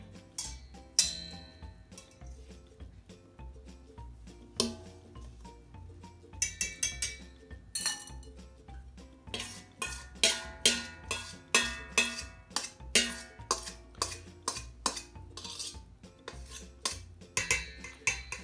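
Cookie dough for healthy Christmas cookies being stirred in a bowl: a utensil clinks and scrapes against the bowl in a quickening, rhythmic pattern of sharp ticks, close and fairly quiet, with no talking.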